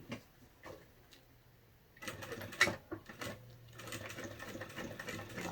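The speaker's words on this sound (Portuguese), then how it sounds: "Então, eu vou fazer a costurinha, vou voltar em X pra ficar bem resistente." A sewing machine stitches a fabric bag in short bursts of rapid mechanical ticking, quiet at first and then running more steadily and a little louder through the second half. Nobody speaks.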